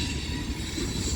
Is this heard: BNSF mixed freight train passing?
yes